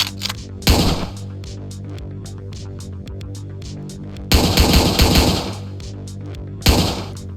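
Gunshots from the top-down shooter Hotline Miami: three loud, sharp broadband blasts spaced a couple of seconds apart, the middle one a longer burst, set over a steady synth music bed.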